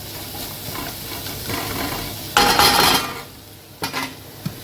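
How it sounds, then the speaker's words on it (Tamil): Onions fry in a pan for a dried-fish dish while a spoon stirs them, a soft continuous sizzle broken by a louder burst of scraping and clatter and a few sharp utensil knocks against the pan. "இது நம்ம நல்லா கிண்டிட்டு இந்த மாதிரி வெங்காயம் நல்லா வதங்கணும்."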